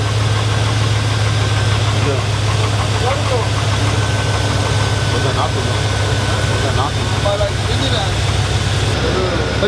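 A truck engine idles steadily with a low, constant rumble throughout, while people talk nearby over it.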